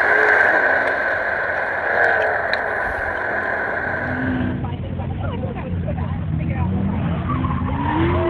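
Porsche Panamera at an autocross championship at Palm Beach International Raceway, a loud engine roar with squealing tires that drops away midway, then the car skidding through a turn with tire squeal rising near the end.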